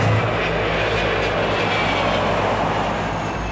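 A Cessna aircraft taxiing near an active runway while another plane comes in to land, heard as a steady, loud engine drone with a low propeller hum that holds evenly throughout, no voices.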